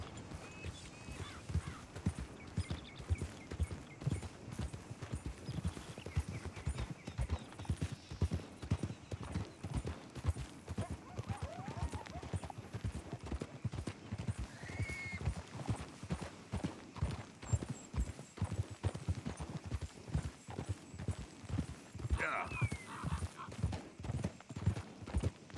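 Steady clip-clop of horse hooves at a trotting rhythm in Red Dead Redemption 2, close and clear, with a brief whinny-like call partway through.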